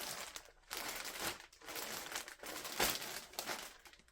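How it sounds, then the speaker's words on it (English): Plastic Ziploc bags holding yarn rustle and crinkle up close in repeated bursts, a dry crackling that comes and goes with short pauses between handlings. "whenever I get new yarn now, it goes straight into Ziploc bags. So excuse the rustling"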